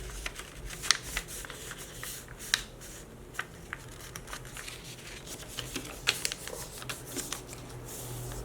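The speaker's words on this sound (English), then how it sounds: "we're going to fold the entire thing in half" Sheets of paper are folded and creased for an origami bobblehead Snoopy, giving soft close rustling and scattered sharp crinkles and taps, with no voice.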